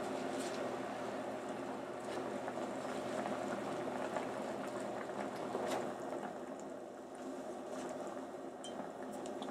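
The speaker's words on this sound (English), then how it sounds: "You just want to simmer, and you don't want it to boil too much." Pork belly braising at a gentle simmer in a reducing liquid, giving a steady, close bubbling hiss with small pops that stays level throughout, no voices.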